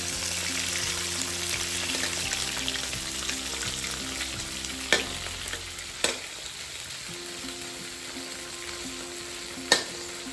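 Prawns fry in a hot pan with soy sauce for Malaysian soy sauce prawns, a steady close sizzle with occasional stirring clatter and a few sharp utensil knocks.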